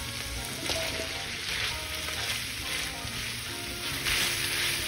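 Meat and onions sizzle in a pan with a steady hiss and occasional stirring, at a moderate level, for a curry made from curry powder.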